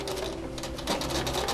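A sewing machine back stitches a shirt sleeve, its needle clattering in a fast, steady mechanical rhythm, close and continuous.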